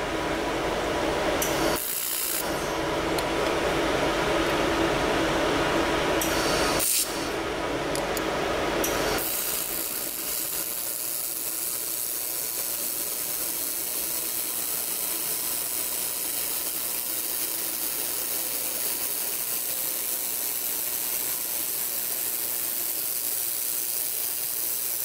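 A laser cutting and etching head pulsing at 1,000 hertz on stainless steel gives a steady hiss and mechanical whir for about nine seconds, which then drops away to a quiet hum that lasts the rest of the clip.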